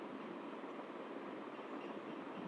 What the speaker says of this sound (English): Yes, this is tram.